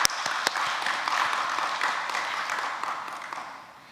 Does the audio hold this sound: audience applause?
yes